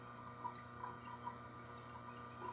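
Water running steadily over lapidary polishing wheels while lapis lazuli is polished, a quiet continuous wash with faint drips over a low machine hum.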